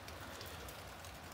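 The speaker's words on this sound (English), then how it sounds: "raining outside right now" Steady rain falling outdoors, a continuous dense patter on surfaces with no voices, even and unbroken throughout.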